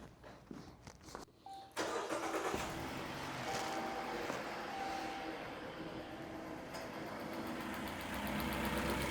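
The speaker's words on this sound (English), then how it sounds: "so now we've got a misfire in the vehicle. We can hear spark occurring" A vehicle with an ignition coil fault starts after some handling noises and runs with a misfire and audible sparking, the engine idling steadily and fairly loud nearby with faint irregular ticks.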